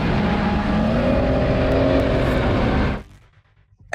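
Detroit two-stroke turbo diesel engine of an M113 armored personnel carrier, a loud, steady droning rumble held close for about three seconds before cutting off abruptly into near silence.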